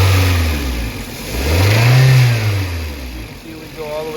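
A car engine revs up from idle and falls back, its low tone rising and dropping twice with a steady broadband roar close by, as on a shop vehicle during a camshaft position sensor test.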